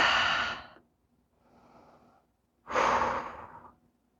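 During a yoga splits flow, one person breathes deeply and audibly nearby: a long forceful exhale, a quieter soft breath, then another strong sighing exhale, with no talk.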